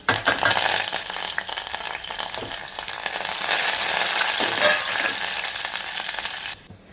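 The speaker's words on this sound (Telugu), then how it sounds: "ఇవన్నిటితో ఇప్పుడు మనం తాలింపు పెట్టేసుకుందాం" Loud, steady sizzling of tempering spices and seeds frying in hot oil, continuous crackle throughout, then cutting off abruptly near the end.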